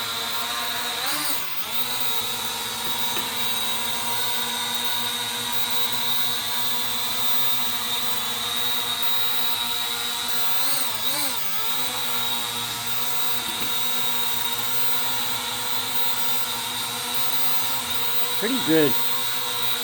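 Small 4DRC camera quadcopter drone hovering in place indoors, a steady high-pitched motor whine holding constant throughout, with brief shifts as it adjusts position.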